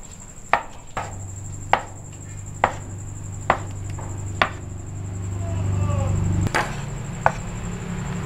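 A knife cuts meatloaf into cubes on a board in about eight crisp, evenly spaced chops, close and distinct over a low background hum.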